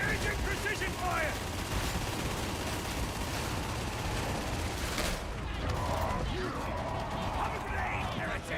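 Rapid gunfire from a video game rattles in dense, continuous bursts, loud and close, with a voice speaking over the shooting.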